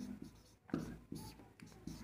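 Chalk or a marker scratches across a board in short, rhythmic strokes, close but quiet, with a few brief pauses between bursts of writing.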